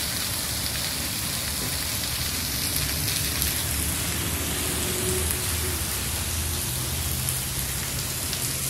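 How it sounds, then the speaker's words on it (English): Steady rain pouring down outdoors in Northern California in warm September weather, a dense, even hiss of drops hitting the ground and puddles that holds constant throughout with no voices. "I love the rain, but this was most unexpected."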